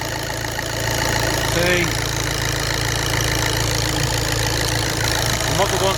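A VW/Audi diesel engine with a loose glow plug idles steadily and loudly up close, its even knocking chatter running throughout, with a brief spoken word over it.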